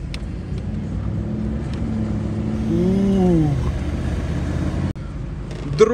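A Mercedes G-Class heard from inside while driving: a low, steady engine rumble that swells briefly as it revs and shifts, with a short knock near the end.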